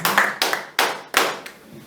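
Congregation clapping in praise during a church worship service: four or five sharp, loud bursts of many hands land roughly every half second, each fading quickly before the next.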